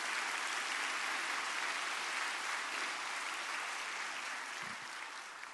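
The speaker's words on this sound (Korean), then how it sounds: "박수 받기는 또 처음입니다." A church congregation applauds during a Thanksgiving Sunday service, a steady, dense wash of clapping that fills the room evenly and tapers slightly toward the end.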